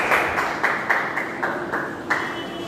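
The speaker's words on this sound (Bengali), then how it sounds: "জোরে হাততালি দাও সবাই, হাততালি দাও" A group clapping hands during a blindfold recreation game, a steady run of about eight loud, evenly spaced bursts of applause-like claps with no voices.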